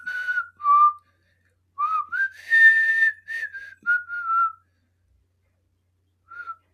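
A person whistles a catchy film song tune in short, shrill melodic phrases with pauses between them, clear and close with no talk.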